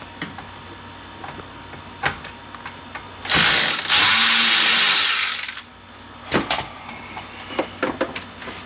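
A power tool whirs for about two seconds while bolts are removed from the radio area of a VW MK5 GTI interior, surrounded by scattered clicks and clunks of the work.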